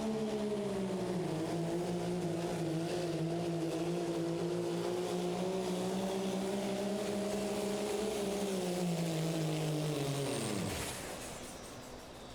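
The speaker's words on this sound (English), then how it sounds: "You hear them building the boost now, and then slowly ride that clutch out to keep the RPMs right there where that turbo's happy." A Pro Street diesel pulling truck at a 2019 truck-pull final in Terre Haute, Indiana, roars with a steady loud engine and turbo drone that holds for about ten seconds, then drops away sharply as the pull winds down.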